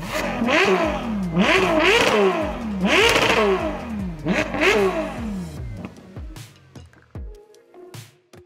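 A Ferrari F12 TDF V12 supercar accelerates hard, with its engine note climbing through several rising sweeps, dropping at each gear change and then climbing again, loud and close before easing off toward the end.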